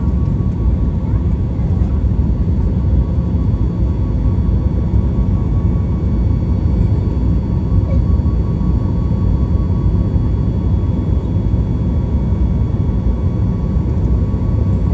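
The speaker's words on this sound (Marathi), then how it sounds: "लगेचच विमान हवेत उडायला लागलं" Loud, steady drone of an airplane cabin in flight from Pune to Delhi, a deep continuous engine roar with a faint tonal hum and no pauses.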